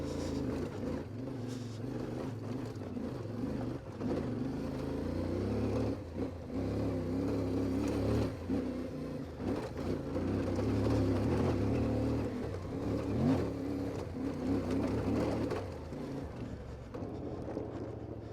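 Ibex 450 dirt bike engine running steadily through a ride on technical terrain, a continuous droning motor with small surges and dips in throttle, close and sustained throughout.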